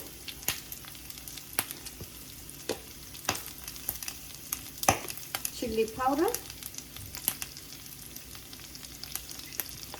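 Food frying in a pan as Korean chili powder is added, a constant close crackling sizzle punctuated by sharp pops and brief stirring scrapes.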